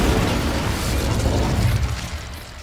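Incendio fire spell in Hogwarts Legacy: a sustained, roaring burst of flame with crackling, popping texture and deep rumble, loud and close, fading slightly toward the end, with no voices.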